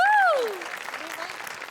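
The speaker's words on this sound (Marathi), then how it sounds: "त्यांच्यासाठी एकदा टाळ्या वाजूया" Applause from a television comedy show's studio audience, a steady crackling clapping that fills the moment after an announcement, preceded by a brief rising and falling musical tone.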